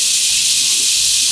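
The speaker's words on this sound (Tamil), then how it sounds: "நல்லா வதக்கிக்கோங்க வெங்காயத்தை." Large onions sautéing in hot oil for a Tamil kara kuzhambu with elephant foot yam, a dense steady sizzle and hiss close by, continuous and loud with no voices.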